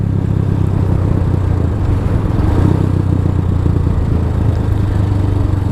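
A DF250 motorcycle engine rumbles steadily while riding, its carburetor slightly out of tune, a loud continuous low drone with a rough, clattering texture and no pauses throughout.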